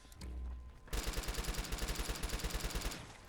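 Rapid automatic gunfire from the game Fallout 4: London rattles in a steady, evenly spaced stream of loud shots for about two seconds, cutting off abruptly after a brief quieter lead-in.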